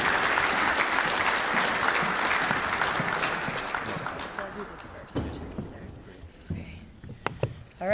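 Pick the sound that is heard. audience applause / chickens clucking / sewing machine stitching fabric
audience applause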